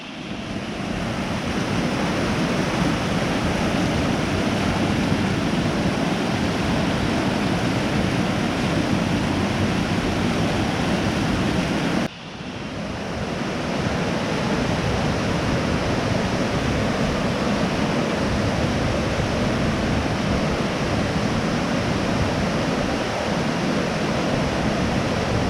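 Logan Creek waterfall pours in a steady, loud, broadband roar that fills the whole stretch without pause, close to the listener and free of speech.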